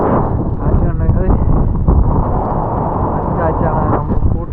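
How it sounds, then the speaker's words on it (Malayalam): Strong cyclone wind blasts straight into the microphone outdoors, producing a loud, continuous, roaring low rumble with gusty buffeting that never lets up. "കാറ്റാണ്. മുമ്പോട്ട് പോണില്ല, ബാക്കോട്ടേക്കാണ്."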